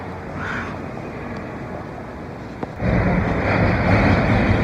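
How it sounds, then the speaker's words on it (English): A train rumbles steadily nearby, growing louder partway through as it draws in, with a brief clank amid the heavy rolling noise. "My train should be coming soon."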